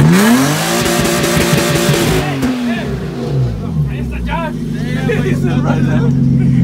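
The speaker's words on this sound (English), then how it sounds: "We revved it again!" A Chevrolet Camaro engine revving loudly up close, with a strong rising rev followed by a steady rumbling idle, while excited voices talk over it.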